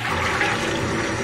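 Small clams are washed in water, a continuous close sloshing and rushing of liquid for about a second, with no voices.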